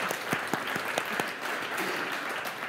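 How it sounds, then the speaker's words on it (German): Steady applause from a moderate crowd, continuous clapping with a few sharper individual claps standing out near the front. "Einen großen Applaus bitte."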